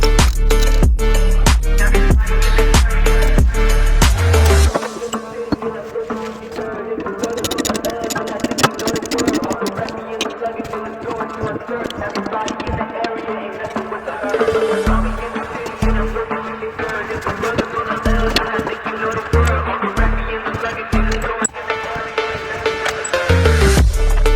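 A final bolt is undone on the driveshaft of a Ford Territory during a centre bearing replacement. Steady loud ratcheting clicks come from close by, then a noisy stretch of intermittent clicking and metallic handling continues.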